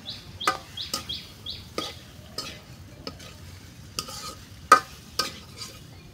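Potatoes and tomatoes stirred into a pan of spices, with a utensil scraping and clacking against the pot in irregular strokes over a low steady sizzle, close and moderately loud, no talking.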